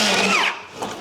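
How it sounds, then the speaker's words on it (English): An electric planer shaves masonite packers in an old house renovation, a loud brief high-pitched whine that cuts off and drops away within about a second. "I've got my planer set on 1 mil, so those 2 pass-bys are firstly taking off 1 mil the whole way through"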